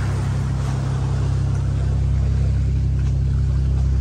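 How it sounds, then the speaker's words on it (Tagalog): A speedboat engine drones at Sentosa beach, a loud steady low roar that holds evenly throughout, with faint water wash mixed in underneath. "Speedboat."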